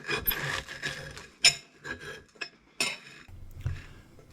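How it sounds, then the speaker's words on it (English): A knife cutting toast into four pieces: short dry rasping scrapes and crunches repeat in uneven strokes, close and fairly soft, with brief sharp clicks where the blade meets the plate. "Cut the toast into exactly 4 pieces with the knife."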